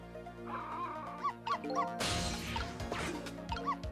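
In Ghost Trick: Phantom Detective, a bowl is knocked flying with a sharp crash, followed by a noisy clatter amid game music and bright chiming effects. Dog barks are not clearly picked out.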